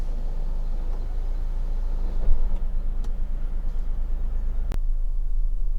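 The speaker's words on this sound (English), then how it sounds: "engine running as it has been all the way through" Honda Accord 2.4 i-VTEC EX Tourer estate engine idling steadily, a continuous low rumble close by with a few faint clicks, no voices.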